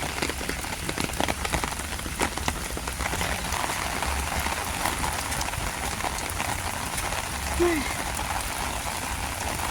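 Steady rain patters on hard surfaces in a continuous wash, close and even in loudness, with a faint bird chirp briefly heard.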